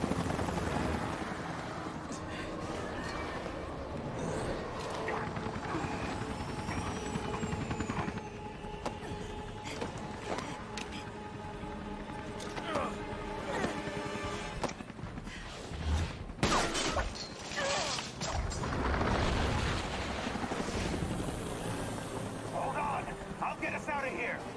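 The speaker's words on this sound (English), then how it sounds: "Helicopter fight? Helicopter fight." Helicopter rotor chatter and engine drone from the game Resident Evil Revelations, mixed with explosions, gunfire and shattering, while people talk over it throughout.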